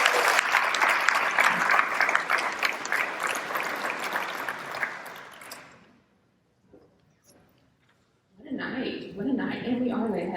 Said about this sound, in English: a big round of applause for all of her work in making tonight